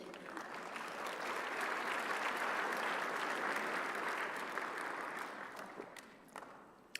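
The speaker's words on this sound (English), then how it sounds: "I don't deserve this applause." Audience at a talk applauds in a soft, steady wash of clapping that swells and then tapers off toward the end, heard from some distance.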